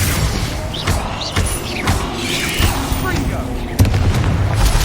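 A Bombarda spell explosion in the Hogwarts Legacy video game, with a series of booming blasts and crashing impacts over rumbling combat noise, loud and close, several hits spread across the stretch.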